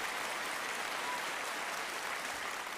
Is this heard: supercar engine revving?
no